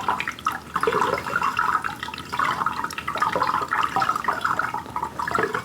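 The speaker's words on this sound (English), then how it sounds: "But we want to get a little bit of water in there first." Warm tap water running into a storage barrel, a close, steady gushing and splashing that rises and falls slightly as the barrel fills.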